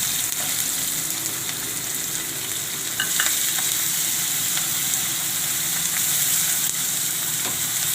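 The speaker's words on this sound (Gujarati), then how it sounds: "તો ડુંગળીને આપણે તળવા દેવું." Sliced onions and peanuts fry in oil over a low flame for kanda poha, giving a steady, close sizzle with no one talking.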